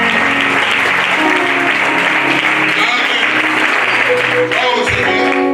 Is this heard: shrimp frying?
no